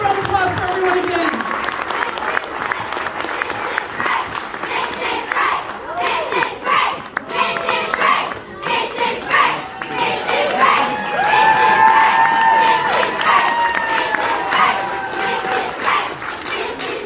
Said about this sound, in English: And again, one big round of applause for everyone again.